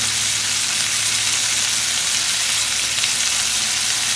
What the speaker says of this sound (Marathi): आता आपण एक एक करून सगळे मच्छी घालणार आहोत फ्राय करायला